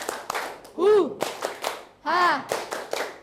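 A classroom group plays the clapping game "tepuk rimba": quick bursts of hand claps in a set rhythm, broken twice by loud, drawn-out group shouts. Everyone is close and loud.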